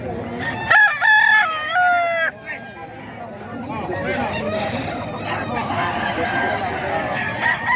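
A rooster crows loudly at close range in a drawn-out call at a busy fowl market, followed by continuous crowd babble and talking.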